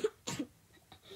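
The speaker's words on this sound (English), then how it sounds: "Okay, I don't want to cough on camera," A person coughs a few times in quick bursts, close to the mic, with short pauses and a faint breath between.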